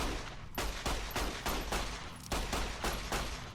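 Rapid gunshots fire in Fallout: New Vegas, loud sharp reports in a steady rhythm of about ten shots over a few seconds, with a brief pause midway and no talking.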